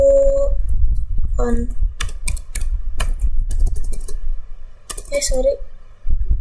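Router commands are typed on a computer keyboard during a basic Cisco configuration, with sparse clusters of close, crisp keystrokes and key presses between stretches of someone talking.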